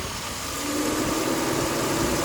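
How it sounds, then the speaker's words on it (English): A car engine idles with a steady, even rumble and hum, close and fairly loud, unchanging throughout. "Listen to that engine. Listen to that thing purr."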